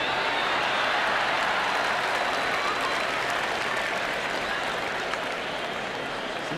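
A tennis crowd at a 1991 US Open first-round match between Jimmy Connors and Patrick McEnroe applauds loudly and continuously, a dense wash of clapping that holds steady throughout.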